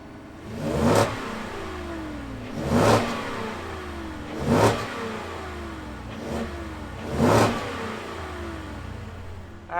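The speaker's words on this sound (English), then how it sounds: "why don't we fire up this V8 and hear what it sounds like" A 2021 Ford F-150 XLT Sport V8 revs repeatedly, five throaty blips rising and falling over a steady idle, heard close up outdoors.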